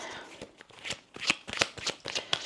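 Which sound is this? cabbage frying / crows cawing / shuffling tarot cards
shuffling tarot cards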